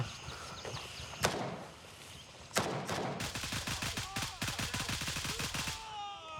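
Rapid automatic rifle fire in the Gray Zone Warfare shooter: a couple of single sharp cracks, then a long, fast, evenly spaced burst of shots ringing out loudly over faint ambient noise.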